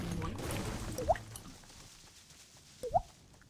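A beatboxer's voice imitates two water droplets, each a quick rising liquid plop, spaced about two seconds apart and heard close up against a quiet background.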